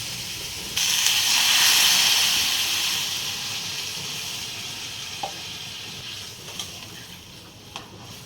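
Water is poured onto fried masala for a rohu fish and pumpkin curry, setting off a loud hissing burst of steam that slowly dies to a soft simmering sizzle, with a few small clinks near the end.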